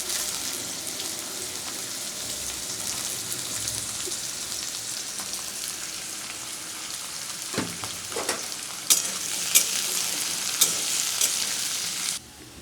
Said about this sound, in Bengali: এবার আমি ছোট ছোট করে কেটে রাখা আলু সেগুলো দিয়ে দিলাম। আলুগুলোকে আমি একটু ভেজে নেব।